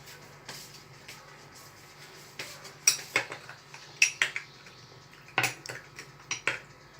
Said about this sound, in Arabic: واحد المعلقه صغيره باش نحركوها.